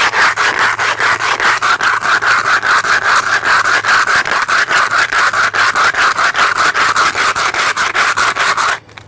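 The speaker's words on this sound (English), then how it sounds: "Take it and you rub it along the concrete." A metal food can is rubbed back and forth against concrete in a steady, rapid rhythm, making loud, close, continuous gritty scraping that stops abruptly at the end.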